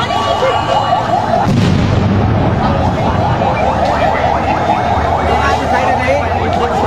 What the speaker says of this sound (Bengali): তারা আরেকটি সাউন্ড গ্রেনেড বারবার মারা মেরেও তাদেরকে সরানো যাচ্ছে না